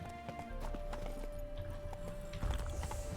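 Horse hooves from The Witcher video game clip-clop in a steady gait, with a brief whinny and a sustained background tone underneath, moderately close and unaccompanied by talk.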